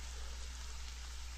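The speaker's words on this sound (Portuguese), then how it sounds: "Hoje de novo chove." Steady rain pouring in a video game, a continuous even hiss heard alone without any voices.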